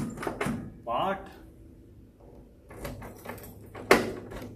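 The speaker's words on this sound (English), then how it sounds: "Door locks," Door locks on a 1972 Chevrolet Nova snap and clunk a few times, short sharp mechanical clicks near the car, with someone talking between them.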